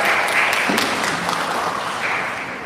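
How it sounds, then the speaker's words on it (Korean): Audience applause welcoming a speaker to the podium at a Korean art exhibition press conference, a steady dense wash of clapping from a crowd that holds evenly throughout. "Everyone, please welcome her with a big round of applause."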